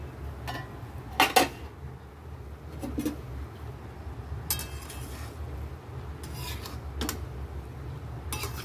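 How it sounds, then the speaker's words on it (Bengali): A metal lid lifted off a pot of pilaf, with a couple of sharp clinks and clatters against the rim, then lighter scraping and scattered kitchen knocks nearby. "এবার এটা খুলবো ঢাকাটা।"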